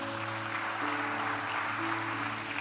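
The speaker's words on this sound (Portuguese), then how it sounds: "Fica de pé, aplauda o Senhor." A church congregation applauds during a worship service, a soft, steady wash of clapping heard at a distance, with sustained musical tones underneath and no talk.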